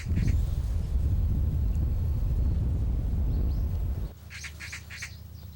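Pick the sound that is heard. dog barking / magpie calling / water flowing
magpie calling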